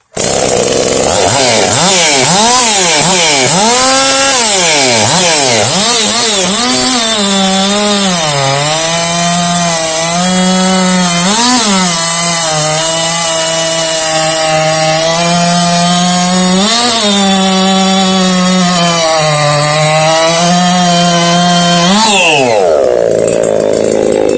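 Chainsaw fitted with a hand-ground race chain cutting wood, very loud and close, engine pitch dropping and rising as it bogs into the cut and revs free, ending abruptly.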